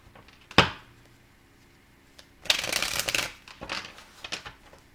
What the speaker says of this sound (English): I don't usually shuffle the cards too much.